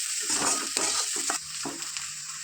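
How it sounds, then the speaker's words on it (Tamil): Onions and garlic sauté in a hot pan for a spicy mutton pasta, a close sizzle broken by scraping and stirring strokes of the spoon, with no talking. "இந்த வெங்காயம் பூண்டு எல்லாம் வதக்கும் போது நல்ல ஒரு வாசமாக இருக்கும்"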